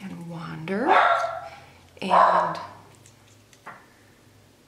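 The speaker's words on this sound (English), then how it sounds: "I had a noisy dog there for a moment" A pet dog barks indoors twice, with loud, drawn-out yelping barks close by, while someone talks over them during a planner setup.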